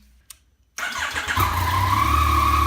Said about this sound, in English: start the bike up, let it get warmed up for about a good minute or so